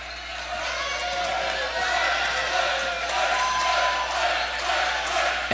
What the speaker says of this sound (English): the Knight crowd getting behind their folks now